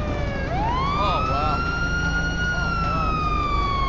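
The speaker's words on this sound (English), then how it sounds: "turn your sirens off" Police car siren in the video game GTA 5 with the LSPDFR mod wails loud and close, one long rising sweep followed by quick yelping warbles, with game engine noise underneath.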